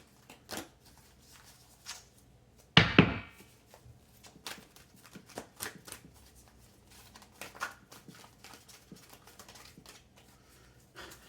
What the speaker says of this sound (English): It's hard to shuffle these big old cards.